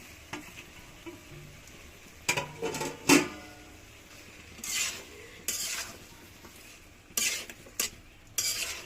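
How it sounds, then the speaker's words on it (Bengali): A spoon scrapes and stirs fish curry with potatoes and tomatoes in a pan, with irregular bursts of clatter and scraping over a soft background sizzle. "আর এখন আমি যে লাড়ছি, এই লাড়ার পরে আর লাড়বো না"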